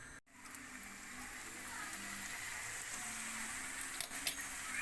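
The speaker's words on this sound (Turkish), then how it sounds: "bir su bardağının dörtte üçü kadar yağ koydum. Şimdi o kızıyor" Oil sizzles faintly in a pan, a soft, steady crackling hiss that continues without a break.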